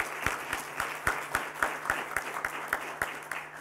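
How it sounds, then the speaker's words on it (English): Faint, evenly spaced claps at a live computing-center event, beating in a steady rhythm of about four per second and sounding like a small group clapping in unison rather than a dense ovation. "applause."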